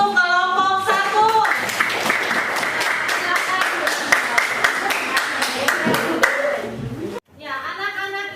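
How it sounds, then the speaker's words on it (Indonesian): A classroom of students claps for a student group after its presentation, a loud rapid burst of applause lasting several seconds before it stops abruptly, with voices before and after. "tepuk tangan untuk kelompok 1"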